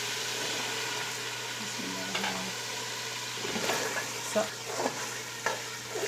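Green peas added to cooked masala and fried for aloo matar pulao, a continuous loud sizzle with spoon stirring and scraping close up, no voices.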